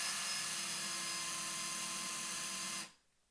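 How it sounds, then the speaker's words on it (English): A drill boring into clear hemlock wood whines at a steady high speed for nearly three seconds, then cuts off abruptly into near silence. "Here we're going to drill some nice clear hemlock."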